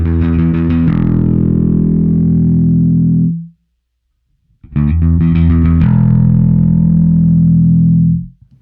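Two sustained, fuzzy notes from a Michael Kelly Vintage Element bass through a pedal with neck and bridge pickups blended, fuller, rounder low end, each struck with a few quick plucks, separated by a brief silence.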